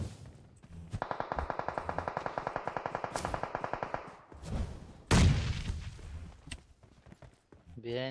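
Rapid automatic gunfire from a shooting video game, a steady burst of evenly spaced shots for about three seconds, followed by a heavy blast and scattered further shots and impacts, with voices talking over the action.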